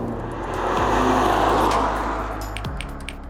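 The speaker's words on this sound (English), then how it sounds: "This is a Peugeot 306 GTI-6, one of the most underrated hot hatches of the 20th century" A Peugeot 306 GTI-6 hot hatch engine revs hard nearby, rising and swelling loud as it passes, with audible gear changes where the pitch drops, alone without any talking.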